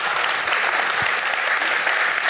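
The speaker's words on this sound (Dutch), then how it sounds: "Geef ze een warm applaus." Warm audience applause at a city talk event in Amsterdam fills the room, a dense continuous clapping from a seated crowd throughout.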